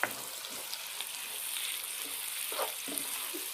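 Black cardamom pods and bay leaves fry in oil alongside onions for a Pakistani beef haddi guddi salan, giving a soft, even sizzle with occasional light pops and stirring scrapes, close but fairly quiet.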